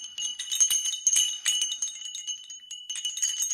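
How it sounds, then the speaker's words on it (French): A small Christmas decoration bell from Aldi rings with bright, tinkling strikes, shaken repeatedly in an irregular jingle close to the listener, with brief pauses between bursts. "je fais aussi le petit cloche comme ça."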